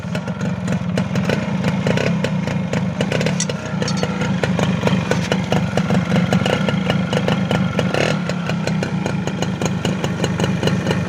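A Yamaha Mate 111 motorcycle, fitted with a new exhaust header pipe, starts up and runs loud and close, its steady, clattery engine note rising and falling through repeated revs with no pauses.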